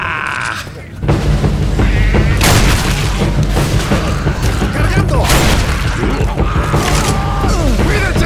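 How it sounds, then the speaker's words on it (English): A grenade goes off in Left 4 Dead 2 with a loud boom at about one second, followed by sustained dense gunfire, mechanical clatter and chaotic game noise under voices. "Grenade!"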